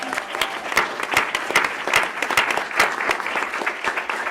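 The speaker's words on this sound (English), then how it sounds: "That's a round of applause right there." A room of people at a school district board meeting applauds news of PTA membership growth, with dense, sustained clapping that rises and falls gently over a few seconds.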